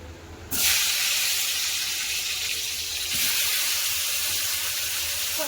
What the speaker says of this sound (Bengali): তেল গরম হয়ে গেছে দিয়ে দেবো পটল